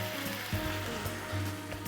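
Onions frying in a pan with abalone and white wine, a steady close sizzle with soft low stirring thumps running throughout.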